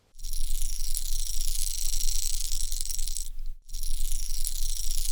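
A Bomber Model A crankbait fishing lure shaken in steady bursts, producing a close, bright, continuous rattle of loose beads, broken by a short pause before resuming.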